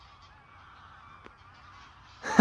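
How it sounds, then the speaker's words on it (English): Seabirds honking on a flint-covered beach, a loud close burst of honks arriving abruptly at the end after quiet wind and a faint background tone. "A lot of bird creatures."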